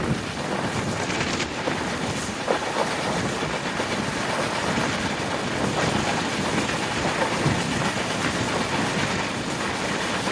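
A Visakhapatnam to Kurnool summer special train runs through farmland, a steady broad rumble with wind buffeting the microphone and faint wheel clatter throughout.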